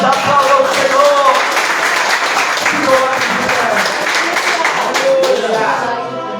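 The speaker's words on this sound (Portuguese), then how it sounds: "Em nome de Jesus, aplauda o Senhor." A church congregation at a men's worship service claps in praise: a continuous crackle of applause with voices calling out over it, easing slightly at the end.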